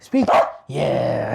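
A pet dog gives one loud close bark, and a person speaks briefly just before it.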